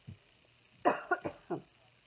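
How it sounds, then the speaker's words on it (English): A small cough, then a short burst of three or four coughs close to the mic, with quiet pauses between them. "I'm going to cough."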